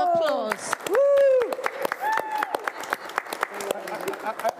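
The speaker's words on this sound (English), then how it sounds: "A round of applause." Audience applause at a Manchester literary evening, scattered claps running through loud whoops and excited voices, with people talking over the clapping throughout.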